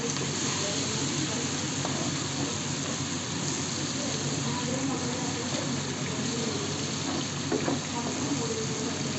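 Fried rice with black pepper sizzling in a pan as it is stirred, a steady close crackling hiss with occasional scraping, voices speaking lightly over it.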